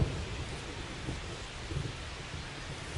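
Rain and thunder in the baseball video game MLB The Show 25 at a Yankees home game in the Bronx, heard as a continuous dense wash of rainfall with low rumbling, steady and fairly loud throughout.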